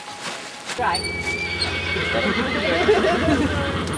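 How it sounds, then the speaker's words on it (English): A horse on a film set gives a loud whinny with clip-clopping hooves, close and clear, while people talk in the background throughout. "This is the horse"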